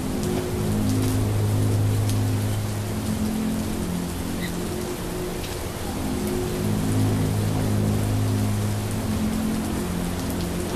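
Steady rain falls in The Walking Dead: Saints & Sinners, a broad even hiss of drops with faint low rumbles, continuous and fairly loud throughout with no talking.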